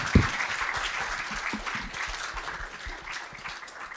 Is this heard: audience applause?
yes